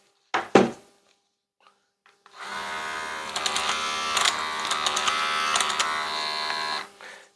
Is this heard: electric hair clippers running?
yes